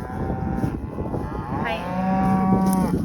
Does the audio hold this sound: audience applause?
no